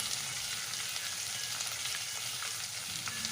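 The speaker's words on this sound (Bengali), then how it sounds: "ভালো করে নাড়িয়ে চাড়িয়ে নিতে হবে আদাটা।" Ginger frying in hot oil while being stirred, a dense, continuous close sizzle with a soft hiss throughout and a faint knock at the end.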